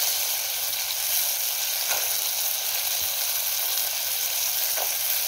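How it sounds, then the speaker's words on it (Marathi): Green peas fry in hot oil with chili and tomato, giving a loud, steady, close sizzle with faint stirring scrapes now and then. "तेलातच वाटाणा छान असा परतून घ्यायचा"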